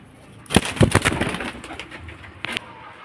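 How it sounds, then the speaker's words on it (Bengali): A large pigeon coos nearby, a short burst of low throaty calls followed by one more brief coo, with no talking. "পায়রা একদম বিগ সাইজের পায়রা"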